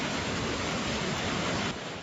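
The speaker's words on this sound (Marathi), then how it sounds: "भीमाशंकर खोऱ्यात पावसाची संततधार सुरू असून संततधार पावसामुळे भीमा नदीला पूर आलेला आहे" Heavy, continuous monsoon rain in the Bhimashankar valley of the Sahyadri hills near Pune, a dense, steady broadband hiss that stays loud throughout without pause and with no voices.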